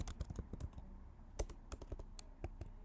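Fingers type quickly on a computer keyboard in an irregular run of close, crisp key clicks, with a few heavier strokes.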